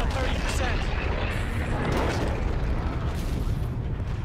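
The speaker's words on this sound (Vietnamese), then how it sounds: "Ôi cái súng này bắn phê cực luôn á" Continuous heavy weapon fire in Call of Duty: Infinite Warfare, a thick roar of rapid shots and explosive booms with mechanical clatter, loud and unbroken throughout, with a voice speaking over it.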